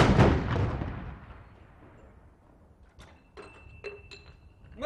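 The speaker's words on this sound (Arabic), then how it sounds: "مدفع أول جاهز، ارمي" A ceremonial cannon fires at Naif Palace in Kuwait to announce the start of Ramadan. One loud boom opens the clip and rumbles away over a couple of seconds, followed by faint clicks and thin tones.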